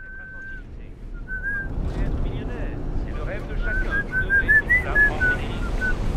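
A person whistles a short, wavering tune in bursts over a breezy, noisy outdoor background.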